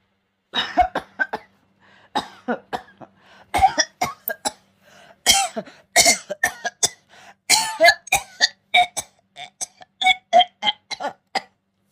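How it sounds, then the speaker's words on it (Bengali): A man lying asleep at one side of a room breaks into a fit of repeated coughing, with harsh throat-clearing bursts coming in uneven clusters, close and fairly loud against a quiet background. "ঘরের একপাশে ঘুমিয়ে থাকা সেই লোকটার কাশি শুরু হলো"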